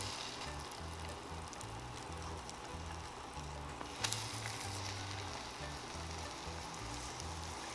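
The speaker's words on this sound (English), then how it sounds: "Once my skillet is nice and hot, I'm going to add in my French toast." French toast frying in melted butter in a hot skillet, a steady, even sizzle that holds throughout at moderate volume, with a low rhythmic hum underneath and a brief clink midway.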